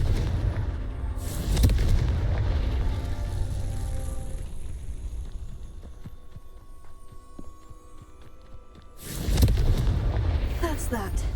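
Confringo blasting spell going off in Hogwarts Legacy, with two loud booming bursts, one early and one near the end, separated by a quieter stretch of low rumbling game ambience.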